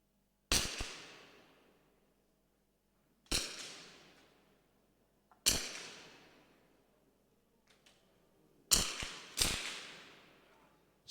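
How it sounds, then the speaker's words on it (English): Sharp gunshots ring out at a shooting competition, five separate loud cracks spaced a couple of seconds apart, two of them in quick succession near the end, each with a trailing echo, no talking. "For the next competition shot, load."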